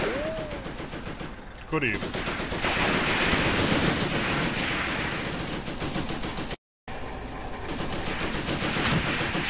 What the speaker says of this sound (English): I think they're shooting at the crew now.